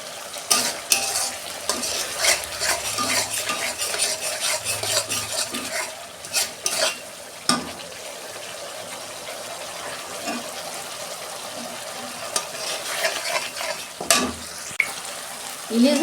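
Spice paste of ground green chillies and chilli powder fries in a pan for hilsa fish curry, sizzling continuously while a utensil scrapes and clanks against the pan in irregular bursts.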